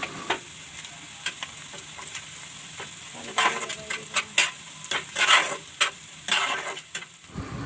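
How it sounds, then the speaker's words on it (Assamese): Chili powder, turmeric and salt are stirred through hot oil in a pan for masala fish curry, with a soft sizzle under repeated scraping strokes of a spoon that grow louder and faster in the second half. "এতিয়া মই ইয়াত জলকীয়াৰ গুড়ি, হালধিৰ গুড়ি, নিমখ ভালদৰে দি কিনে মিহলাই দিছোঁ।"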